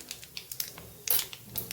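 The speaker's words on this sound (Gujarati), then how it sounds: "રાઈને આપણે સરસ ફૂટવા દઈશું" Mustard seeds splutter and pop in hot oil in a pan, with a string of sharp crackling bursts and one louder fizzing flurry, all close up and with nobody speaking.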